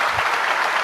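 Steady, dense clapping from many hands, a continuous bright patter without pauses, fairly close and loud.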